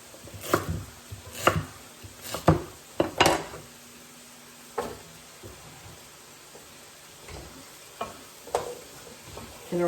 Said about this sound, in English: I think my knife needs to be sharpened again. It's kind of tough to cut through this today.